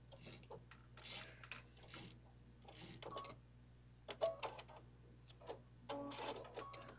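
A sewing machine makes a quick back stitch in short, quiet ticking bursts, close up, mixed with light clicks and fabric handling and a low steady hum underneath.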